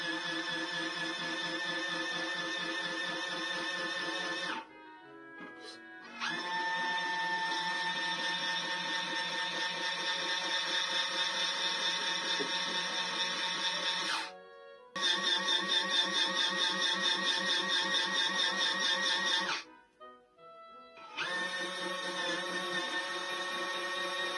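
A folding portable washing machine starts up and runs, humming with a steady motor whine and a rhythmic mechanical pulse, broken by a few brief pauses where it stops and restarts, close and alone.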